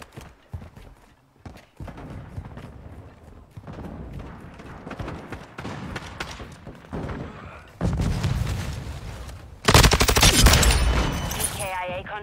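Rapid bursts of gunfire from a double pistol in a military shooter video game, sharp shots in quick runs that grow louder toward the end, with voices talking faintly underneath.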